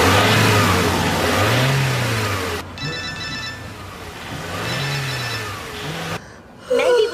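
A car engine revs up with more throttle, climbing and falling in two loud, swelling surges, with a faint ringing tone in the background.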